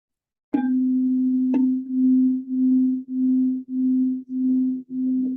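Two tuning forks of slightly different pitch, struck one after the other, ring with a pure sustained tone that swells and fades in a slow, regular throbbing beat, clear and alone in a quiet classroom.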